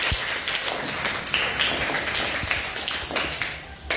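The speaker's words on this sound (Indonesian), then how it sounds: "Tepuk tangan untuk kelompok Ar-Rahim." A class of students applauds a student group after a presentation, a steady patter of many hands clapping throughout, fairly close with a slight fade at the end.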